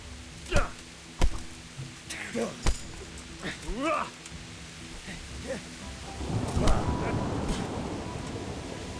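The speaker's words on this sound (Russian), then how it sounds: "Может, дождь начался." Sharp cracks of thunder boom over a steady hiss of rain in the video game Kingdom Come: Deliverance, the rain growing heavier toward the end, with voices talking over it.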